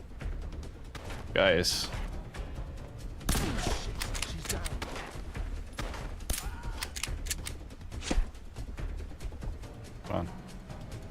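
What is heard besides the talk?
gunfire in the video game Fallout: London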